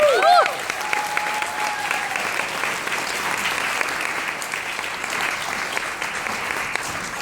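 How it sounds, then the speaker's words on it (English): Wedding guests break into a round of applause, steady dense clapping filling the room after a brief voice at the very start, holding at an even level throughout. "a round of applause for my love"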